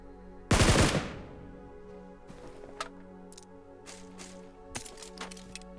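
A burst of rapid automatic gunfire in a battle royale mobile game, loud and close, followed by a few scattered fainter shots and clicks against a quiet in-game background.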